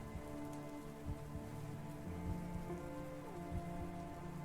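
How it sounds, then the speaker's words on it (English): Steady rain falls inside a video game, a dense patter of drops striking a surface that hisses on without a break under a low droning game ambience, with no voices heard. "I can hear the rain."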